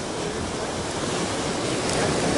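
Strong sea swell crashing against a rocky cliff, a steady loud roar of surf and wind with no break across the whole stretch.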